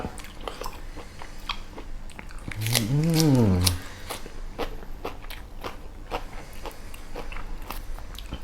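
Raw beef with green onion, a dish from Isan, is eaten up close in wet crunchy bites and chewing, with a short hummed voice in the middle.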